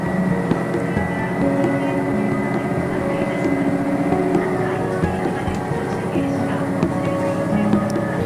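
A Watarase Keikoku Railway train runs north after leaving a station, a steady loud rumble with droning motor tones and faint rattles throughout, heard from on board.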